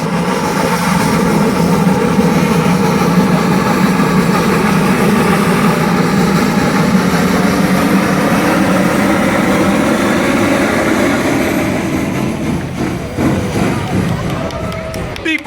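Freshly repaired steam locomotive TKT48-191 hauling a heavy 145-tonne load, a loud, continuous roar of engine and rolling train building close by, with rattling and clanks emerging toward the end.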